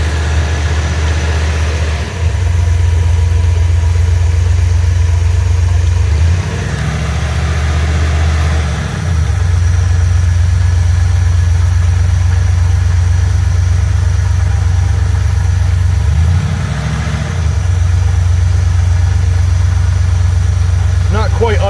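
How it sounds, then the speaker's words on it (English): A 1984 Ford E150 camper van engine runs loud and steady as it struggles to settle into an idle, its low rumble surging audibly a few times, while someone talks over it. "Next trick is to get it to idle."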